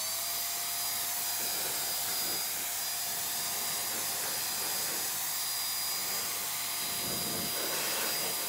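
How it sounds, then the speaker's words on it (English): Canned air duster blasting dust out of an empty HP Pavilion gaming PC chassis, a loud, steady high-pitched hiss throughout with slight fluctuations in intensity. "The now empty chassis can be cleaned by using a combination of the air duster and microfiber cloth."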